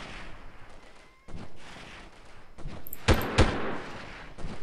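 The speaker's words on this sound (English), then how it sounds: "Shooting two rounds into the air to make it, you know, even for a 3-round burst" Rifle shots from a burst fire in the video game Delta Force: two sharp, loud cracks in quick succession late on, preceded by muffled thumps and ambient game noise.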